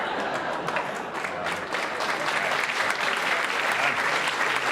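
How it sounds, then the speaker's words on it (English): Comedy club audience clapping after a joke by comedian James Nokise, a dense, steady wash of many hands that stays loud and even throughout with no break. "I'm glad you're clapping."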